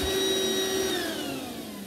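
A 2001 Hoover Encore Quick Broom vacuum with its hose plugged in runs on low speed, a loud steady whine with a high tone that drops in pitch as the motor slows, no talking.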